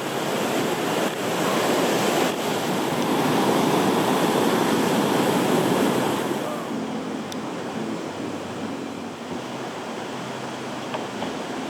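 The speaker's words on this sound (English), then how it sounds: "No microphone on, you hear the ocean sound." Big ocean waves break on a sandy beach at Koggala, Sri Lanka, making a loud, steady roar of surf for about six seconds before easing into a softer wash with light wind noise and no talking.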